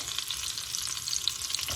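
Quiet, steady crackling sizzle of onion sautéing in a pan, with light stirring scrapes and no voices.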